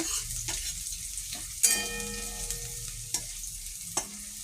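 Paneer pieces fry in hot oil, giving a continuous close sizzle with a few soft stirring scrapes and one bright metallic clink of a utensil against the pan.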